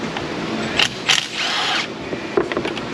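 Metal transmission pan bolts on a Dodge Caravan 3.8 being loosened by hand tools, giving a few brief ratcheting clicks and a short grinding scrape up close, with quiet gaps between them.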